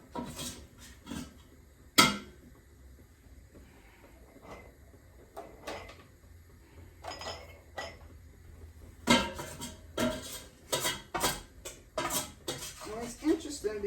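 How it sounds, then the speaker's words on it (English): Cooked beef spooned into canning jars for pressure canning: scattered clinks of glass and metal utensil taps come in irregular bursts, some sharp and close, with quieter stretches and light background movement between them. "as we fill these up, you can see I have more than enough jars for what was in that first skillet"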